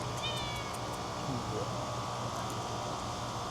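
A cat at the Cassadaga Spiritualist Camp meows softly a few times near the start, over a steady hum of fan-like background noise.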